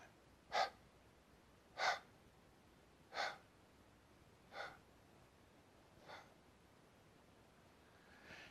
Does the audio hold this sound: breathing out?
yes